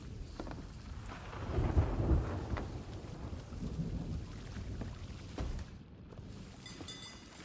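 Thunderstorm in a pirate-ship video game: steady rain hisses throughout while low thunder rolls and rumbles, loudest in a swell early on, with no talk over it.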